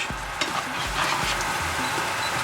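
Cream added to scallops simmering in a pan for a traditional Isle of Man scallop dish: a continuous close sizzle and bubbling, with a few soft scrapes of stirring and no talk.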